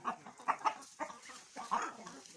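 Light Sussex heritage breeder chickens clucking nearby in short, uneven bursts, fairly soft, with a few sharper calls, alone without talk.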